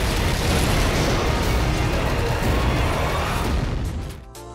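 Massive explosions from the open-world video game Just Cause 3 crash and rumble in a loud, sustained blast of noise that fades at the end.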